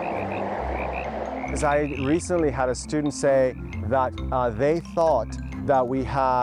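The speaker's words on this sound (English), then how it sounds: "That's the real frogs calling" Tree frogs call loudly in spring, a dense pulsing chorus running throughout beneath a voice speaking over it.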